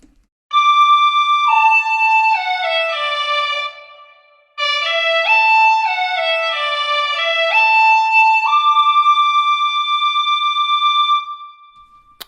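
A bright, reedy hulusi, a Chinese gourd free-reed flute, plays a lively melody with sustained tones and quick ornamented runs, loud and close, with a brief pause midway.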